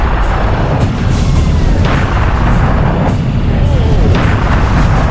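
Booming cannon shots from the Serious Sam video game fire at a steady rhythm, roughly one per second, loud and close over a constant churn of battle noise in a co-op session at the Great Pyramid, with faint voices underneath.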